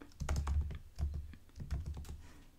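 Close keyboard typing, rapid clacking keystrokes in quick uneven bursts with brief pauses, no voices.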